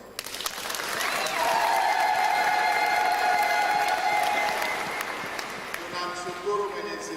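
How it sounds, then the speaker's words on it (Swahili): A church congregation at Easter Sunday Mass bursts into clapping and cheering that swells quickly, holds for a few seconds, then tapers off as voices return. "Tumpigie Mungu makofi"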